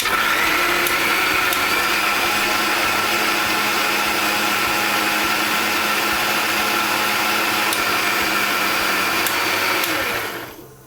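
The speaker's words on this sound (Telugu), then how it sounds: "కొంచెం వాటర్ చేర్చుకుని మిక్సీ వేసుకోవాలి." A mixer grinder grinding mint with a little water whirs loudly and steadily for about ten seconds with a harsh motor drone, then winds down and stops at the end.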